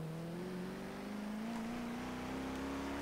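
A car in Forza Horizon 3, driven in reverse at extreme speed, gives a steady engine drone that climbs smoothly in pitch as it accelerates. The sound runs loud and continuous throughout, with no voices.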